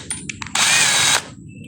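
A power drill threading a PVC pipe whirs at high speed for about half a second, close and loud, after a few short clicks and faint knocks.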